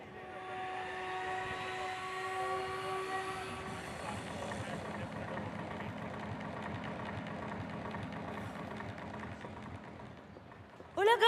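A formation of five military helicopters from a display team flies over Marina Beach in Tamil Nadu, a droning engine and rotor hum with sustained tones that shift as the aircraft pass, ending in a sudden louder burst.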